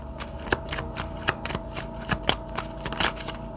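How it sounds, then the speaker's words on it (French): Cards are shuffled for a card reading, a rapid series of papery riffles and snaps repeating in quick bursts, close and clear with no talking. "je vais mettre quelques cartes chez vous là"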